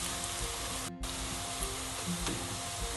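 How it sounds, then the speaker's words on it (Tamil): Two whole green chillies sautéing with onions in hot oil, a steady close sizzle and crackle with a brief stir break partway through. "நான் இந்த எடுத்து வச்ச அந்த 2 பச்சை மிளகாயையும் போட்டு வதக்க போகிறேன்"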